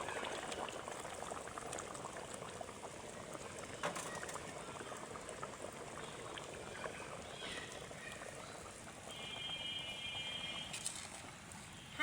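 Snakehead fish simmer in a bottle gourd curry, a soft, steady bubbling and hissing from the pot, fairly quiet and continuous throughout.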